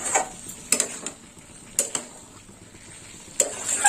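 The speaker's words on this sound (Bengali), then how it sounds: "এবার একটু নেড়ে চেড়ে দেবো সরষে বাটা দেওয়ার পর" A spoon stirring vegetable stem curry in a pan after mustard paste is added, a few sharp clinks and scrapes against the pan spaced irregularly over soft background noise.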